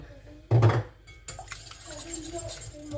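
Crêpe batter being mixed in a bowl, a sharp clatter of a whisk or utensil against the bowl followed by softer scraping and swishing, close by, with a voice talking over part of it.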